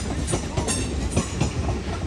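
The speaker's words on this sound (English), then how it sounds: "Now approaching is the delayed 11:26 Hull Train Paragon service from London King's Cross to Hull." Hull Trains Class 802 unit 802303 rolling into Doncaster station on the East Coast Main Line, a loud, close rumble with steady clickety-clack of wheels over rail joints throughout.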